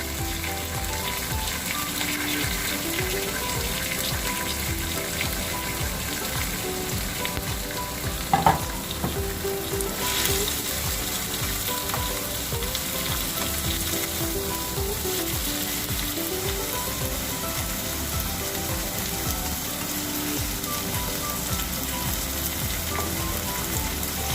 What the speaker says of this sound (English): I'm gonna add my peppers